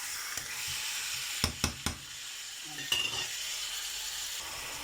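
Chicken frying briefly in a pan before hoisin sauce goes in: a steady sizzle runs throughout, broken by a quick cluster of three sharp utensil knocks and a later clink.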